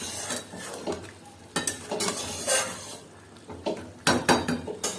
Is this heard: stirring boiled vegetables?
yes